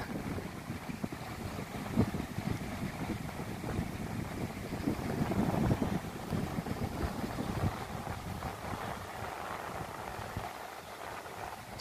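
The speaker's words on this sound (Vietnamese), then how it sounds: "Ghe đang vào bờ nữa." Wooden fishing boats coming ashore at Hồ Tràm public beach on a calm, light-wind morning, giving a steady rumble of wind and surf with low engine-like noise throughout.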